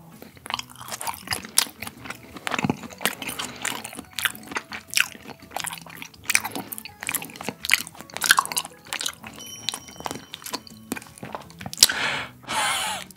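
Someone chews premium Korean beef sashimi (yuk-sashimi) close up, with soft, wet, squishy bites repeating irregularly throughout.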